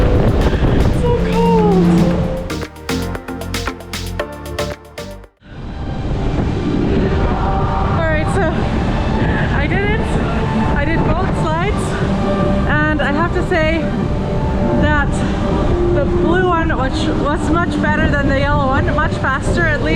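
Strong wind roars steadily across a cruise ship deck at sea, buffeting the microphone in a loud, continuous rush, with someone talking over it for most of the stretch.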